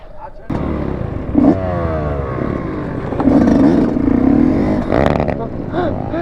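A quad ATV engine rides and revs at a lot, with a loud, close, rough drone that swells in pitch during throttle pushes, while a voice shouts over it.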